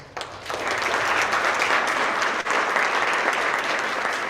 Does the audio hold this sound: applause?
yes